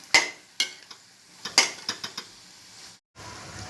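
A utensil stirs chicken frying in a pan, giving a handful of sharp metallic clinks and scrapes at irregular intervals, close and fairly quiet, with a brief silence near the end.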